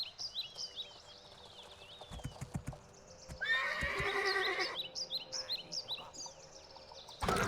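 Horse in the Two Worlds video game whinnies loudly in bursts amid clip-clopping hooves, with bird calls chirping in the background.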